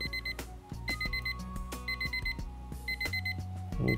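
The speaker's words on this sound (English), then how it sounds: "If it gets outside of that range, it'll alarm, let me know." Rapid electronic beeping pulses from a pit barrel cooker thermometer alarm repeat in steady clusters over a low background hum, clear and close, with no talking.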